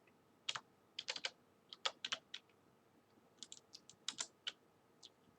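Keys clatter on a computer keyboard as a password is typed, quick clustered bursts of crisp clicks with short pauses between, close and fairly quiet in an otherwise still room.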